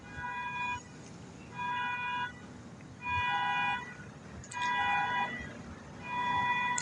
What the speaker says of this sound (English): While that car alarm's going, that's why I'm killing time